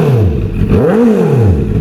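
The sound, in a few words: Benda LFC700 Pro motorcycle engine revving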